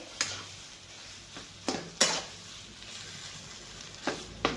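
Paratha stuffing sizzles gently while being sautéed in a pan, with a soft continuous fry under several sharp scrapes and clinks of a spoon against the pan.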